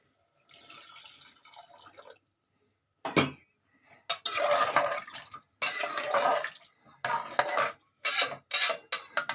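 Water is poured into a potato and pea gravy simmering in a pan, heard as bursts of splashing and bubbling with a few metallic clinks of utensil against the pot, close up with short pauses between pours.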